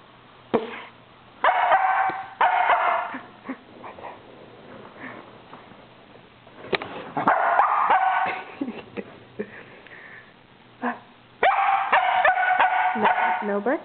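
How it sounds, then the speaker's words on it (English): A dog barks in repeated loud, close bursts, mixed with yips and whimpers, in a home near a WD-40 can, with a person speaking between the barks. "No barking, no."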